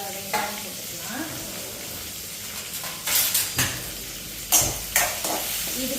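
A large chopped onion sizzles in hot oil with fried urad dal and chillies for tomato chutney, a steady frying hiss broken by several loud stirring scrapes and clatters of a spoon against the pan.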